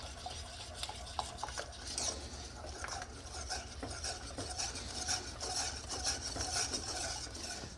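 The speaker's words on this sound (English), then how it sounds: "And we whisk that together." Gluten-free brownie batter of eggs and chocolate whisked in a bowl, giving a continuous rapid scraping and tapping against the bowl sides, close and moderately loud with no talking.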